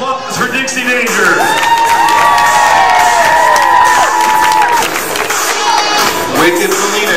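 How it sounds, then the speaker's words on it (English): Loud roller derby crowd cheering, whooping and applauding a skater, a sustained roar with shouts and whistles that swells for several seconds and eases slightly near the end. "Big round of applause for Dixie Danger."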